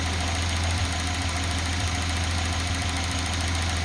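A Datsun 280ZX turbo engine idles, with the car parked, in a steady, unbroken low hum with a faint rhythmic knock, loud and close, and no voices.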